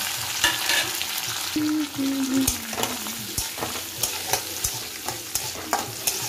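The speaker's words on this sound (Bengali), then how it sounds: "এবারে আমি এই কাজু কিশমিশটা ভালো করে এর সাথে ভেজে নেব" Cashews and raisins frying in hot oil with garam masala and a bay leaf for basanti pulao, a loud continuous sizzle broken by repeated clacks of a spatula stirring against the pan.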